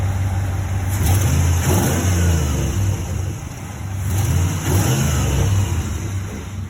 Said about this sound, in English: You can definitely hear the suction on the intake.